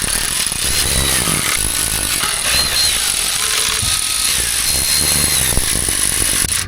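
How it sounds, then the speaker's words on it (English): A power tool tightens oil pan bolts on a Toyota RAV4, giving a loud, continuous high whine with a buzzing rattle, close by and steady throughout, with no speech. "I just tighten them a little bit, not that much"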